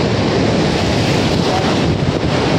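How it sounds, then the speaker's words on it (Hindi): Ocean waves crash at Butterfly Beach in Goa in heavy rainfall, a loud continuous roar of surf with strong wind rumbling against the microphone. "आपको देखते तो पानी भी कितना सही मार रहा है"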